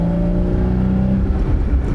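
Porsche 981 Cayman S, a car with a rear rattle, picking up speed with a loud, steady engine drone heard close from inside the cabin; the harmonic hum holds fairly even throughout.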